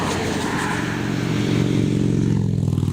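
Steady low rumble of road traffic close by, growing slightly louder as a vehicle passes, with no talking.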